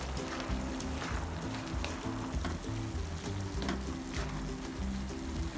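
Beans being stirred in a frying pan with sizzling oil and sauce while cooking Filipino pancit canton guisado, a steady close frying hiss with soft scraping and stirring throughout, no talking.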